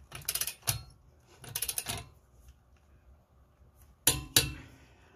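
Lug nuts on a 2016 Ford Fusion wheel are tightened with a torque wrench, giving sharp ratcheting click bursts in three separate groups with quiet gaps between them, close and moderately loud.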